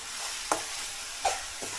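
A spoon stirs mushroom curry frying in a pan, with a steady soft sizzle and three distinct scraping strokes spaced across the short stretch.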